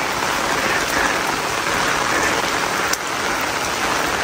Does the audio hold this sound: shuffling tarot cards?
no